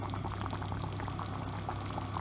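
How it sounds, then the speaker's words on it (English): Maafe, a West African peanut stew, bubbles in a pot on the stove after being turned down to the lowest setting, a dense continuous simmering gurgle close by. "It's bubbling away."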